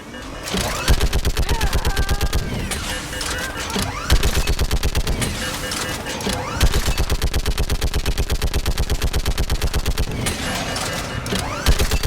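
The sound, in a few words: gunfire in video game Mass Effect 3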